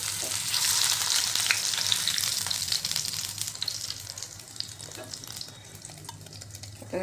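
Paneer sautéing in oil in a pan, a loud, steady frying sizzle with spatula stirring that gradually quiets toward the end, close up and without talking.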